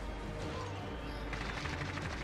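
Rapid gunfire from a Call of Duty: Modern Warfare match, a dense continuous barrage of shots that swells louder in the second half, with a voice faintly under it.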